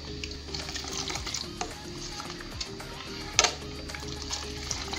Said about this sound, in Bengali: দই পাতার জন্য দুধটাকে অনবরত নাড়তে হবে